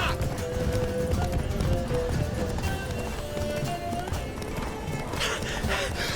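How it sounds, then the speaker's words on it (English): A horse in The Witcher 3 video game gallops steadily, its hooves thudding in a continuous rhythm over a dense wash of game ambience and music. "Run, Roach."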